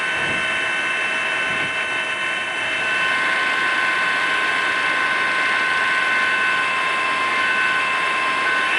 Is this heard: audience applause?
no